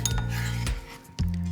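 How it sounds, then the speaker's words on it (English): A kitchen knife chops through an onion, three sharp separate knocks spaced about half a second apart, heard close over steady background music. "Here I am chopping up my onion."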